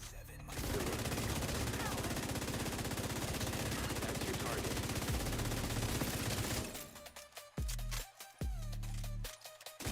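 Heavy sustained automatic gunfire in The Division 2, a loud continuous stream of shots for several seconds, then breaking into short separate bursts with brief gaps between them.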